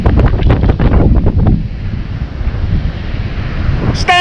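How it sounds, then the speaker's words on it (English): Strong wind buffets the microphone on a northeast Florida beach while surf fishing, a steady loud rumble with surf washing underneath and no talking. "Yeah, it's a little windy."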